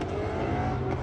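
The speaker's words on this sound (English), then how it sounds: "I don't even know like where the sound coming from. Exhaust everywhere." Steady, loud rumble of many car engines and exhausts at a large car meet in Las Vegas, a continuous dense drone with no single vehicle standing out and no talk.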